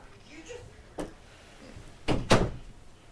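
A door thuds shut indoors, with a couple of knocks followed by two louder closing impacts, fairly faint against low room noise.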